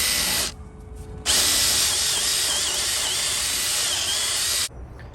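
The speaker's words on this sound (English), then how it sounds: "you will drill all the way through in the center with a 3/8 inch drill bit" A power drill bores a 3/8 inch bit through a wooden cross piece for a backyard swing set, a loud steady whining grind lasting about three seconds and bracketed by quieter motor idling.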